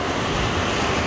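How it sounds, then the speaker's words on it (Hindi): Strong sea waves breaking on a beach in South Goa at sunrise, a loud continuous roar of surf with wind noise and no voices. "काफ़ी लहरें तेज हैं इस समय."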